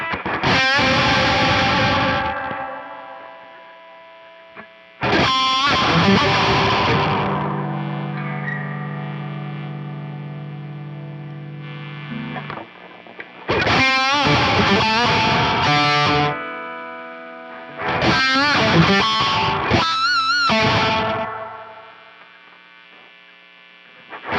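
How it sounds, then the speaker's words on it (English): Heavily distorted electric guitar rings out in sustained chords and notes with a reverb tail, separated by pauses, loud and close. "I'm not used to like reverb going into the high gain like that."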